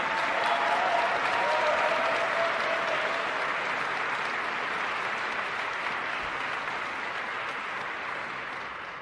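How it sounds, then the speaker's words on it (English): An audience at an Air Force base applauds, with dense, sustained clapping that is strongest at the start and fades slightly toward the end. "Give yourselves another round of applause"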